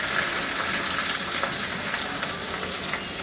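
Koi fish frying in hot oil, a dense steady sizzle with fine crackles running the whole time, close and unbroken, with no voices.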